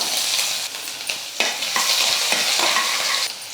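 Mustard seeds and crushed garlic sizzle and crackle in hot oil in a pan, a loud continuous frying hiss with sharp pops and stirring scrapes throughout.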